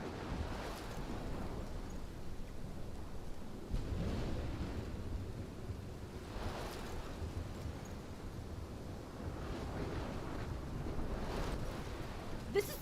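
A storm in the video game Life Is Strange sends a continuous roar of wind and crashing waves, a dense, steady rumble with swelling gusts that carries on without speech.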